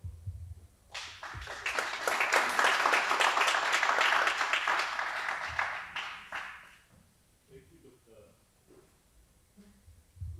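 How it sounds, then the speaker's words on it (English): Audience applause for the panelists at the close of a wellbeing and mental health panel, a dense burst of clapping that swells quickly, holds for several seconds, then fades into a quieter room with scattered sounds. "We need to clap for Dr. Beatrice."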